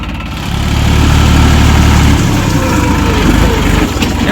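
A farm tractor engine runs steadily and loudly up close, its low throbbing drone continuous throughout with a slight shift in tone partway through, out in an open field.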